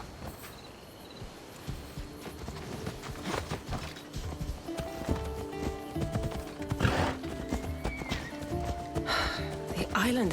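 Horse hooves galloping in Assassin's Creed Odyssey, a running clip-clop rhythm that grows louder alongside an occasional whinny, under ongoing conversation between characters.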